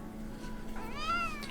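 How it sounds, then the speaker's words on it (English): A tortoiseshell cat gives one drawn-out meow, rising and then falling, heard alone and fairly close at low volume against a quiet background. "I love the little kitty meows."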